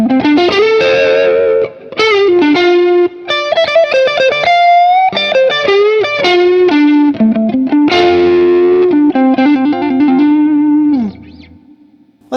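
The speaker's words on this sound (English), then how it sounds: "now let's add some distortion. I'll play some lead lines along with some chords" Sterling Cutlass electric guitar on its neck pickup with heavy distortion, playing sustained lead lines mixed with strummed chords, loud and continuous before ringing out near the end.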